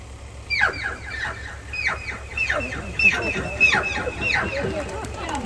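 A voice imitates a chicken being slaughtered, frantic squawking and clucking, a rapid series of sharp, pitched cries repeated over several seconds, close and loud.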